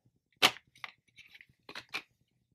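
Rex Specs dog goggles having the lens pulled out of the frame: a sharp plastic snap followed by a few small clicks and creaks, then two more distinct pops, close and fairly quiet.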